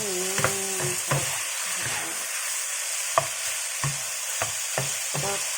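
Pork fillet and capsicum stir-fried in a pan: a steady sizzle runs throughout, broken by a series of sharp clanks and scrapes from a utensil stirring, roughly one every half second to second, close and fairly loud.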